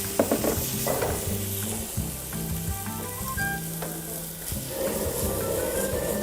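Pork for Bicol Express fries in its own rendered fat with no added oil, giving a loud, close, even sizzle with occasional stirring scrapes and no talk.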